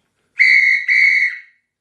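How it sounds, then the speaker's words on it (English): Two loud, sharp whistle blasts in quick succession, each a shrill steady tone lasting about half a second, heard alone in silence. "We've been blowing the whistle."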